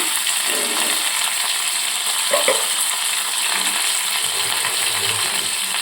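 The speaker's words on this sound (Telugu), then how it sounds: "ఇంకా మనం తీసుకున్న కరివేపాకు పచ్చిమిర్చి వేసేయాలన్నమాట" Curry leaves and green chillies sizzle steadily in hot tempering oil for tomato dal, a continuous close hiss with a few soft pops and shifts, and no voices.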